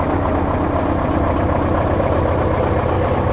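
A 1994 Mitsubishi FR415H snow plow truck with an 8DC9 diesel engine running at idle, a steady loud low rumble that continues without change throughout.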